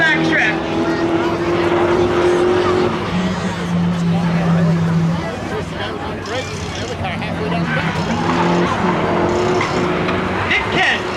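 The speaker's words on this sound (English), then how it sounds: "Green flag. The Mazda with the advantage down the backstretch." A Mazda street-legal drag car accelerates at a drag strip, its engine droning loudly and shifting pitch as it pulls away, heard under continuous background crowd and track noise.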